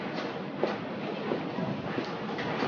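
A Paris metro train gives off a continuous rumbling clatter with faint rhythmic clicks, steady and fairly close throughout. No voices.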